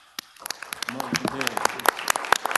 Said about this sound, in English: we're gonna give them a hand clap